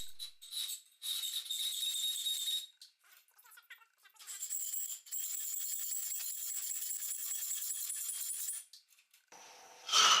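A hacksaw with a new blade cuts through 2.5mm steel in two long bursts of rapid, high-pitched rasping strokes separated by a short pause, close and fairly loud, with no talking.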